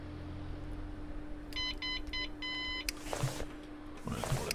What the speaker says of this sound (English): Beep, beep, beep, beep,